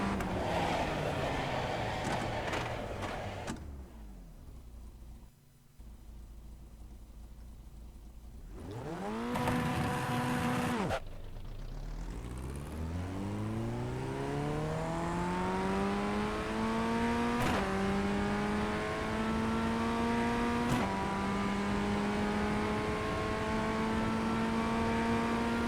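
A Formula Ford race car in a racing game sits revving, goes briefly quiet, then launches from a standstill with the engine roaring and climbing through several gears in rising sweeps, loud and close throughout.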